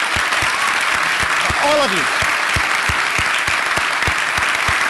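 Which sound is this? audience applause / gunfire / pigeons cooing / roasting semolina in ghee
audience applause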